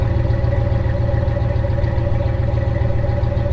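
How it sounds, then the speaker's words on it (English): A stock V8 in a 2019 Ram 1500 Classic pickup idles after a cold start, a steady, throaty low rumble with an even pulsing beat, close up and uninterrupted. "I will never get tired of hearing a V8 cold start."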